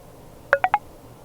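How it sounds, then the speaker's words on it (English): iPhone VoiceOver feedback tones confirming that a Control Center item, the camera option, is being dragged: three short, quick electronic beeps in a rising run over a quiet background, with no talking. "you should hear your sound that notifies you that you are actually dragging the camera option"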